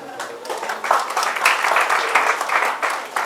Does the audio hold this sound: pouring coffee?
no